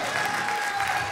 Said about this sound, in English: give the Lord a hand clap today